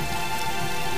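Steady rain falling in the Tomb Raider video game, a dense continuous hiss of drops on surfaces that stays loud and even throughout with no talking.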